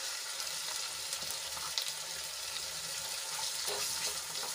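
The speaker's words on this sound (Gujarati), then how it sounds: "આદુ લસણ અને મરચાંની પેસ્ટને આપણે સાંતળી લઈશું" Ginger, garlic and chili paste with onion sautéing in a hot pan, giving a steady, loud, close sizzle that hardly varies, with faint stirring and no talk.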